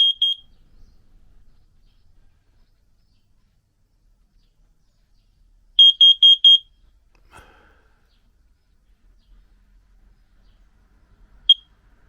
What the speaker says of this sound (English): One is the carbon monoxide sensor, so let's give that a test